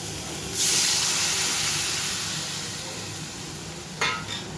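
Water poured into a hot pan after frying small charapona fish for a curry gives a sudden loud hiss and sizzle that slowly fades, with a brief clatter or second splash near the end.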